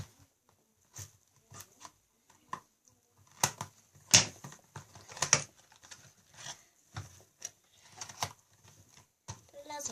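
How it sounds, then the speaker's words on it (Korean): Scissors cut open a plastic Kinder Joy egg wrapper, giving a scattered series of sharp, close, quiet snips and crinkly clicks with short pauses between them. "먼저 가위로 킨더조이를 잘라줍니다"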